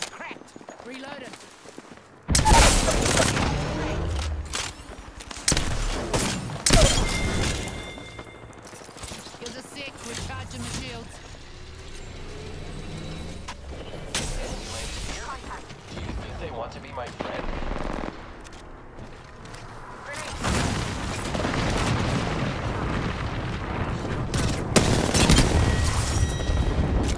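Video game gunfire in bursts of rapid automatic shots with loud, dense stretches separated by quieter gaps, close and forceful, with some footsteps and other game sounds between.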